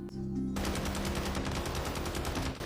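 Rapid automatic gunfire from the online shooter Warzone fills the stretch, a dense continuous burst of shots after a brief lead-in, loud and close with no talking.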